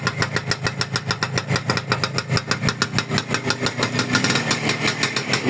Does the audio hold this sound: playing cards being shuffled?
no